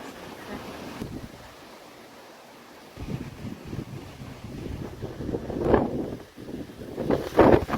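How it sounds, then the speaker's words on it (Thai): Strong wind gusts across an open nature trail near the Lan Hin Taek rock field at Phu Hin Rong Kla. They roar and buffet the microphone in uneven surges, briefly drop away, then build louder toward the end, with no talking. "ลมแรงมากเลยครับ ตัวแทบปิวเลยเนี่ย"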